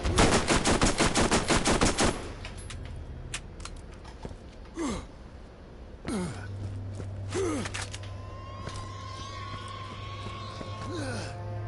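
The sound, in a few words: SMG firing fully automatic in the video game Borderlands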